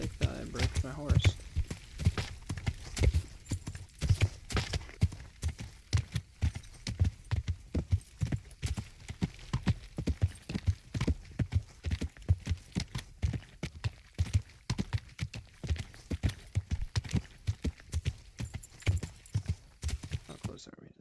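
A horse clip-clops steadily through thick brush, hooves thudding in a regular walking rhythm close by, while a person talks over it.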